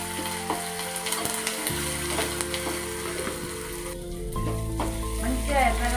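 Ginger and garlic fry in tempering oil with a continuous close sizzle that grows louder toward the end, broken by occasional stirring clicks, while a voice speaks faintly over it.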